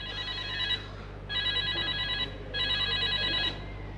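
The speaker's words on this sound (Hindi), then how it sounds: "आई एम सॉरी, टेलीफोन आ रहा है मेरा।" A telephone bell rings in three long electronic bursts, each about a second, separated by short pauses, clear and fairly close over a low steady hum.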